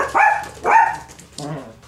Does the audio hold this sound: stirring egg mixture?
no